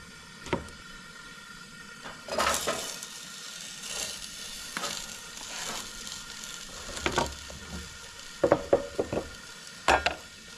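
Onions and red pepper sizzle in oil in a pan on a camp stove, a steady low fry broken by scraping stirs and clacks of a utensil, heard close with no talk.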